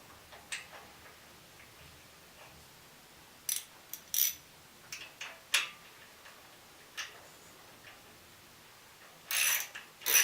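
Ratchet clicks while tightening bolts on the aluminum intake manifold of an old generator: scattered short metallic clicks and bursts, close and fairly crisp, with a few louder rattling bursts near the end, no talk.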